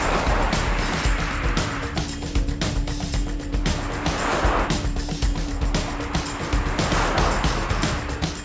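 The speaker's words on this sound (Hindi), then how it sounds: "ड्राइव कर रहे हैं सबसे पहले हम सफारी" A Tata Safari diesel automatic SUV is being driven, with a steady low road and engine rumble plus tire and wind noise swelling and easing in waves throughout.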